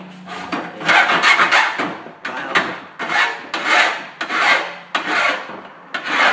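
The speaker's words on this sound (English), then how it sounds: "So you can see how well you're filing" A hand file rasps back and forth along the rough cut edge of a computer case window panel, in roughly eight close, steady strokes with brief pauses between, no talking.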